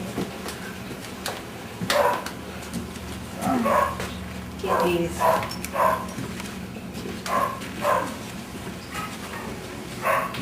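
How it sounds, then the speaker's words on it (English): Scattered dog barks and yips come from the background while a person speaks briefly nearby. "Note dog barking in the background."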